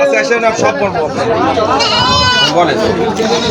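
Goats bleating up close at a Friday goat market in Rupdia, Jessore, with repeated wavering bleats from several animals over a busy crowd murmur.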